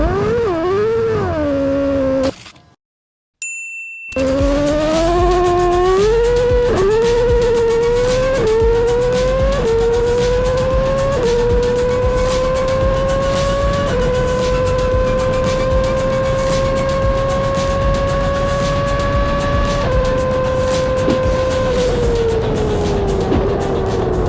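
The 2012 championship-winning Red Bull RB8 Formula 1 car, driven by David Coulthard, screams past loudly, its high-pitched engine climbing through a series of sharp upshifts before settling into a long sustained wail.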